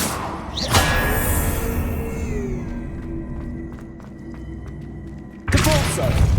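A Depulso spell cast and its impact in Hogwarts Legacy: a sharp thudding burst early on, a sustained shimmering hum, then another loud broadband blast near the end.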